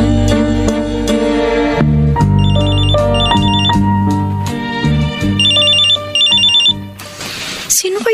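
A mobile phone ringtone plays loud and close as a bright, looping electronic melody with chiming notes for several seconds, then breaks off into a short noisy burst.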